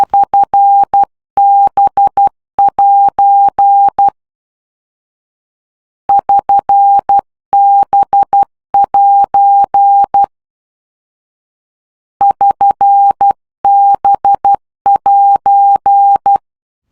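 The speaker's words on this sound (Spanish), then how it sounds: "procede a escuchar las letras SBJ en Morse y suena así de esta forma" A VOR navigation station's Morse code identifier for SBJ repeats three times, crisp steady beeping tones in dot-and-dash groups separated by silent gaps, loud and clean.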